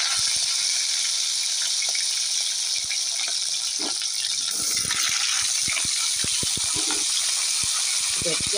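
Vegetable stalks fry in a pan with black cumin seeds, giving a steady, close hiss and sizzle broken by sharp taps and clinks of stirring, with a voice occasionally heard.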